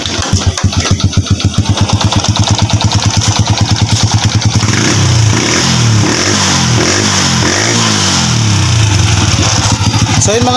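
A Honda Wave 100 motorcycle engine runs close by after its clogged carburetor is tuned: a loud, rhythmic idle chugs for several seconds, then it revs up and settles into a smoother, varying hum.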